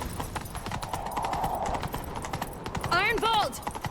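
A horse in The Witcher 3 video game runs with a steady clip-clop of hooves under voices, then gives a short whinny near the end.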